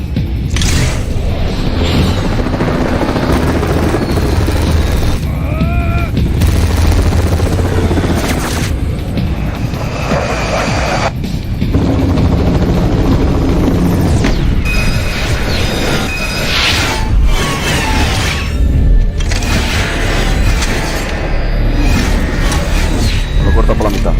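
A helicopter in Metal Gear Rising: Revengeance drones loudly and continuously under booming combat effects, clashing metal and voices, the rotor noise persisting throughout.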